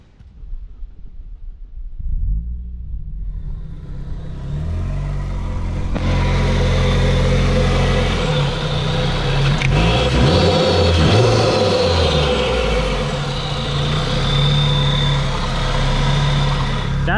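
A Mazda Miata NB fitted with a Rotrex supercharger runs steadily near the microphone, its engine note fading in over the first seconds and then holding loud and continuous, with a low rumble and shifting tones as it idles and revs.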